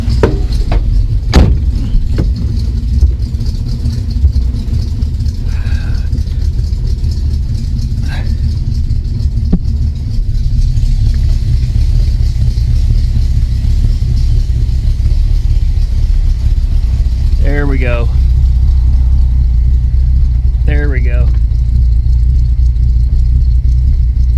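A barn-find 1967 AMC Ambassador engine runs in a garage after years unused, a low steady idling rumble throughout with a few knocks, while people talk nearby.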